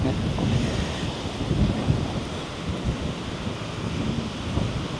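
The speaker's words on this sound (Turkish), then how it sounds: "Böyle mükemmel bir deniz" Sea waves washing onto a beach in Pattaya, a continuous roaring surf with swelling surges and wind buffeting the microphone, loud and close, without talking.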